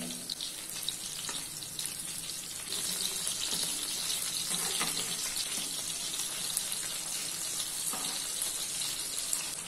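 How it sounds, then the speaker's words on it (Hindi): Rohu fish pieces frying on their second side in a pan over a low flame, a soft continuous sizzle and crackle, fairly faint and steady, with no voices. "तो अभी इसको दूसरी साइड से लो फ्लेम पे 5 से 6 मिनट तक फ्राई कर लेना है।"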